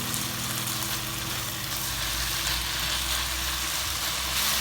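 Potato masala for vegetable macaroni sizzles and fries steadily in hot oil over high heat, a continuous close crackle with a low hum beneath.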